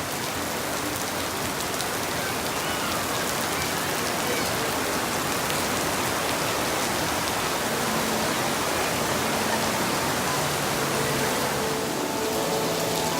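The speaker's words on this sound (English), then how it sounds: "once I'm not in the rain and it's not loud" Heavy rain pours down steadily outdoors, a dense, loud, unbroken hiss of drops on surfaces filling the whole stretch with no voices heard.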